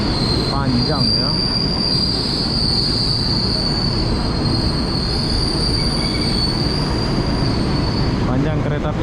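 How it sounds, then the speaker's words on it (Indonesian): A long train rolls past close by in Jakarta, wheels squealing in a steady high whine over a continuous rumble of rail cars, clacking briefly near the end. "Panjang kereta apinya ini."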